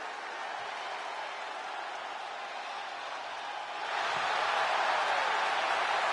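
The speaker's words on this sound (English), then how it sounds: "The crowd on their feet." A crowd in a WWE 2K25 wrestling arena, a steady wash of cheering and applause that swells louder partway through and carries on at a higher level to the end.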